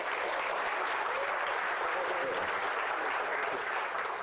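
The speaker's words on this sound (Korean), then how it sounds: "오늘 뜨거운 마음으로 또 환영한다는 마음으로 유시민 작가님을 큰 박수로 청해 주시겠습니다." Sustained, dense applause from a large audience welcoming a writer onstage at a humanities lecture and talk concert in Jeonju, steady and loud throughout with no pauses.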